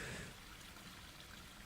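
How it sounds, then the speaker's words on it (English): A river rushes and trickles in the background as a steady, faint, continuous wash of water noise with no clear breaks. "you were the whole time still hearing river noises"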